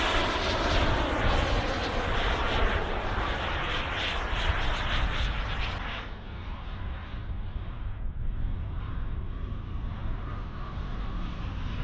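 A model T-45 jet with a carbon-fibre-reinforced wooden airframe and a 140–160 newton turbine flies at the Popham model airshow, its loud, hissing turbine whine passing close before dropping away to a softer, more distant rush.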